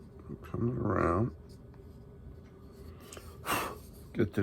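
A pencil scratches over an existing pencil line on paper, a soft dry stroking in short bursts, with breathing and a brief voice heard close by.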